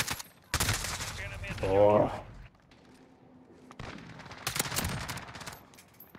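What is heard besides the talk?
gunshots from a video game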